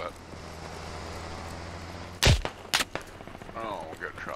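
Gunfire in a Kokan Valley match of a video game: two sharp, loud shots stand out mid-clip over steady background game noise, with voices talking after.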